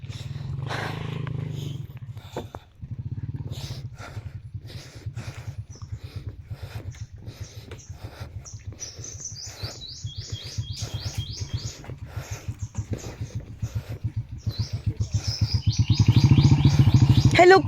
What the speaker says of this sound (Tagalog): Ano, nakakadaan naman pala yung motor.